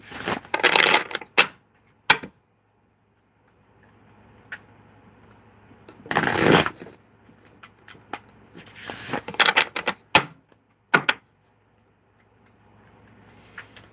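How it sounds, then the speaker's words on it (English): Tarot cards are handled and shuffled in several short, crackly bursts of riffling and rustling, separated by quiet pauses, close up. "All these cards ain't shuffling right."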